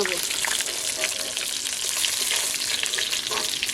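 Pieces of American fish fry in hot oil with a dense, steady crackling sizzle close by, broken by a few brief clinks and stirring scrapes throughout.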